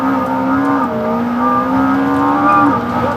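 McLaren W1 hybrid supercar engine revving hard on the road, a loud, steady in-cabin roar holding high rpm for about three seconds, with a brief dip and quick pitch rise near the end.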